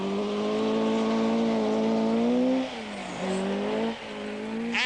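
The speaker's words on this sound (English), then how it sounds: "Hannu Mikkola gingerly feeds in 240 brake horsepower" Engine of a 1979 RAC Rally car, around 240 brake horsepower, revs loudly close by as it pulls away, its strong harmonic note climbing, dipping briefly between gear changes, then rising again.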